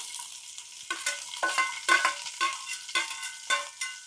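Chopped onions tossed into a hot oiled pan for lady finger sambar, giving a soft sizzle with a series of scraping stirs at a steady rhythm, close and alone without voices.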